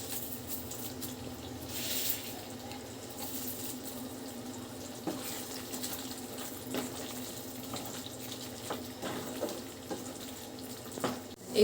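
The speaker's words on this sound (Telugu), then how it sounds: "ఇక్కడ నీళ్ళు మరుగుతున్నాయండి" Water boils in a pot for prawn dum biryani, producing a continuous soft bubbling and rushing sound with faint clinks and small splashes scattered through it.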